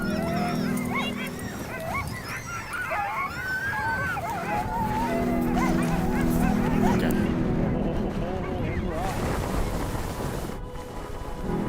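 Several sled dogs bark, yip and whine excitedly together in Greenland winter, a dense chorus running throughout with gusty outdoor noise.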